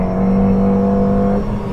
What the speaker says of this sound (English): just a wheel spin in second